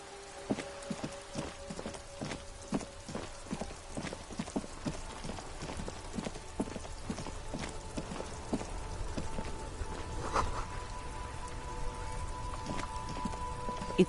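Steady rain with irregular drops tapping on a hard surface nearby, a continuous patter with occasional sharper hits.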